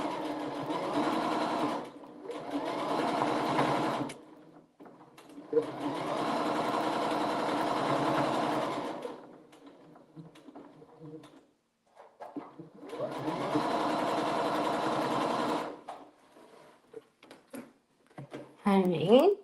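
Sewing machine stitching the final seam of a quilt block in steady bursts of a few seconds each, separated by pauses, loud and close.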